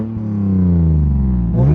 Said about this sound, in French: tu veux pas mettre des coups d'accélérateur pour voir?